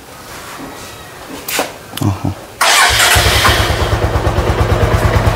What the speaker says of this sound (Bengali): গাড়িটা স্টার্ট করে সাউন্ডটা আপনাদেরকে শোনাবো।